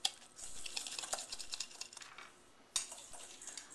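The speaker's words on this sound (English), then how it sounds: "So I'm just getting my wire whisk. Just want to get all of the" A wire whisk clicks and scrapes rapidly around a bowl as a savory cocoa rub is mixed, close and fairly quiet, with a brief pause before the whisking resumes.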